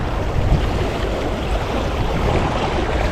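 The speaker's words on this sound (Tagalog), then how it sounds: "Ay, lakas ng agos." Strong sea current and waves at a fishing spot, heard as a loud, steady rushing wash with gusty wind buffeting the microphone and no speech.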